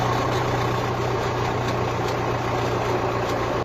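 A steady, low tractor engine idles continuously at close range, a constant mechanical rumble with no voices.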